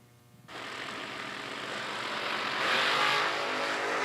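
A dragster engine at a drag race roars in sudden and holds a loud, steady, rising howl with a broad rumble, heard from trackside without talk.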